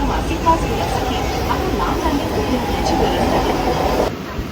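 A Mumbai local commuter train rumbles steadily along in the rain, a dense, continuous roar with faint rattling from the carriages, the noise cutting off abruptly near the end.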